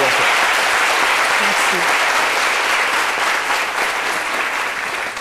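A live television studio audience gives sustained applause, a dense, even wash of many hands clapping close and steady throughout, with a brief spoken word of thanks over the top.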